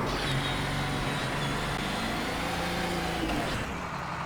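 A vehicle engine in the video game Entropia Universe roars loudly and continuously as it accelerates, a dense steady drone with no voices over it.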